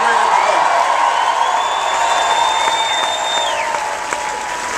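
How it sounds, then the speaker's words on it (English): Dense crowd applause fills a campaign rally for President Obama after the Iowa Firefighter of the Year gives an introduction, a loud, steady wash of clapping with some cheering and a sustained tone running through it. "Give him a big round of applause for that great introduction."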